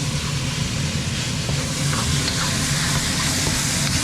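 Pork browning in a hot pan for pad krapow, a steady dense sizzle and crackle filling the clip with no talk over it.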